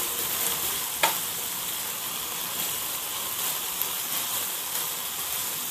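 Spicy chicken pieces roast in a hot pan, a continuous close sizzling and frying hiss with a few sharp pops and occasional stirring clatter, no voices.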